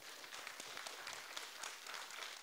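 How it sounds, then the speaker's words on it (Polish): An indoor audience at a cultural centre's birthday celebration applauds, with dense, steady clapping heard at a distance and sustained throughout. "I im należą się też osobne oklaski."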